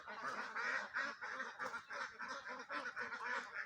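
A flock of Peking ducks at a Comilla farm keeps up a rapid, pulsing run of nasal quacks and honks, the calls tumbling over one another in a dense, rhythmic clamor.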